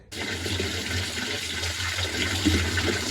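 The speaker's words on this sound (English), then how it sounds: "When it's filling up this dispenser, the water is just not flowing right." An LG washing machine running a quick cycle fills its detergent dispenser, giving a steady, close rush of flowing water with a low hum underneath, continuous and unbroken with no voices.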